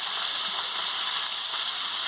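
Ivy gourd and chopped onion frying in a pan with oil, a steady, even sizzle throughout, close and constant with no talk.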